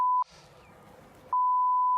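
A phone gives off a steady electronic tone that cuts out briefly for about a second of faint room noise, then resumes, clear and close.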